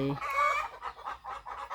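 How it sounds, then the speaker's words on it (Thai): A chicken clucks nearby outdoors at a rural fish pond, a quick series of rhythmic clucks after a brief higher call, fairly close and clear. "เสียงไก่"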